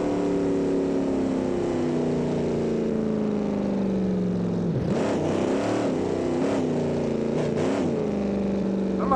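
A car engine in the BeamNG driving game holds a steady drone, then its pitch lurches up and down in repeated revving bursts as it accelerates, continuous and close with no talk.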